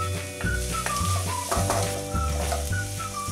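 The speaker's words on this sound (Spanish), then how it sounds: "Integramos bien y dejamos sofreír unos 5 a 10 minutos" Garlic and onion sizzle steadily in hot oil in a pan for a Basque tuna stew, a loud continuous frying hiss with music playing along.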